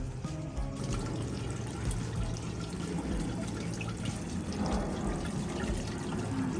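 A garden water pump, kept dry under a compostable bag and duct tape, runs at a campsite garden while water trickles and splashes in a steady, unbroken wash of sound.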